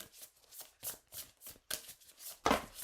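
Tarot cards being shuffled by hand in close, quiet bursts of papery riffling and slapping, about half a dozen uneven strokes over three seconds with short pauses between them.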